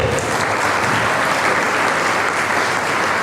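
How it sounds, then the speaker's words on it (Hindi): A large alumni audience at the Sri Krishna Dutt Academy gives loud, sustained applause for Dr. Naveen, a dense, steady wash of many clapping hands with no voices heard above it. "स्पेशली डॉक्टर नवीन जी के लिए जोरदार ताली बजाइए"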